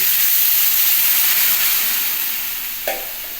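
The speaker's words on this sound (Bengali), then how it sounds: "এর মধ্যে আমি একটু সামান্য জল দিয়ে দিচ্ছি" A little water hits a sizzling jackfruit seed and potato curry, giving a strong close hiss that gradually fades, with one short clink of a utensil near the end.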